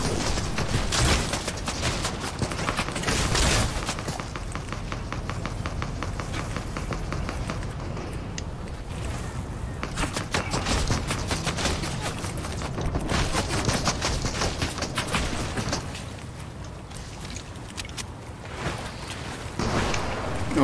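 Video game gunfire in sustained rapid volleys, dense rattling bursts that keep going with short lulls between them, loud and close.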